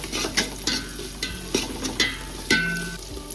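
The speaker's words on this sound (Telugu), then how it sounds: "కొంచెం కొత్తిమీర బాగా వేగాలండి." Freshly ground ginger-garlic paste sizzles in a pan for kushka while a spoon stirs it in repeated scraping strokes, close and fairly loud with no voices.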